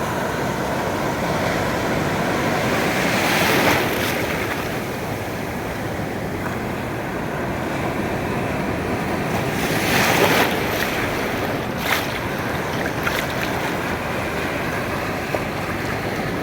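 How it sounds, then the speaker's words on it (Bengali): Big ocean waves surge onto the beach at Cox's Bazar in a steady, loud roar, with heavier breakers crashing near 4 and 10 seconds amid gusting wind buffeting the microphone. "দেখুন কত বড় ঢেউ এগিয়ে আসছে।"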